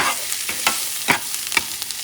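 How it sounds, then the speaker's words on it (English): A pot of rice ingredients for arroz con gandules is stirred and mixed, giving a quick series of scraping strokes over a steady frying sizzle. "Mix everything up."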